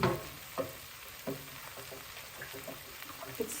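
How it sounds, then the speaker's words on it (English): Broth being added and stirred into a hot pot of flour-thickened base for chicken noodle soup, a soft low sizzle with several distinct scraping knocks of a spoon against the pot, alone and close. "now I'm going in with the broth. Just giving it a stir."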